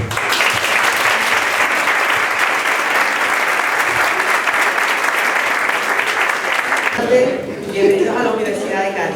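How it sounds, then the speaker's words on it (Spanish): A university lecture audience breaks into sustained, loud applause that fills most of the stretch and then stops abruptly, followed by a brief moment of a voice speaking. "eso es digno de aplaudir y por eso le doy las gracias"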